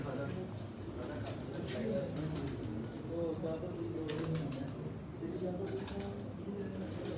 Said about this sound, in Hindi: ये बहुत पुराने खालिद भाई के कबूतर हैं